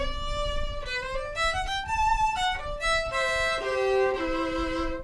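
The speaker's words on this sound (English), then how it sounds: "The sound of the instrument by itself in a room is just the kind of sound that I want to hear out of a violin" A bowed violin plays a flowing melodic phrase with rich harmonics and light room reverberation, fairly quiet and unaccompanied.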